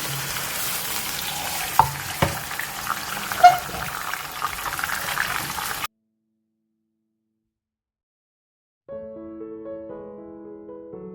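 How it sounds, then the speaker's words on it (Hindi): Mutton or goat meat sizzles and crackles steadily in a hot pan with a couple of sharp clinks while frying for chukandar gosht, a beetroot and meat curry, then everything goes silent before soft music begins. "हमने गोश्त को फ्राई करना है अच्छा सा"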